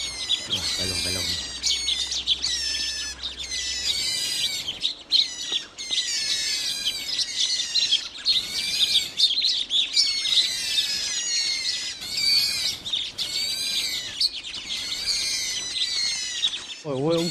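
A large flock of birds in October calls and chirps densely and continuously, overlapping squawks and tweets close by, with a brief low mechanical hum near the start.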